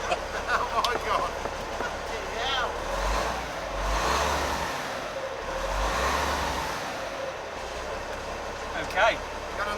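An old Cummins diesel engine turning over and running, a low rumbling idle that swells and dips, with people talking and exclaiming over it.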